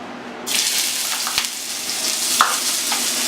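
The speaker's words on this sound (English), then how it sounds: "next we're going to add the onions and the preserved radish" Onions and preserved radish dropped into hot oil, bursting into a loud, steady sizzle with a few light clicks of stirring.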